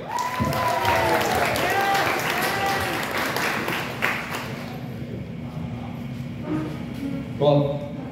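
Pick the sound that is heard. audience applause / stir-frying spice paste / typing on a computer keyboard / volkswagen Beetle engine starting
audience applause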